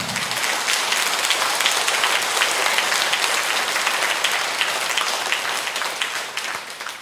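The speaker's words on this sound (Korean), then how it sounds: "이 박수는 하느님이 받으시는 박수예요." A church congregation applauds during a Catholic sermon on happiness, with a full, even wash of many hands clapping that holds steady throughout and tapers slightly at the end.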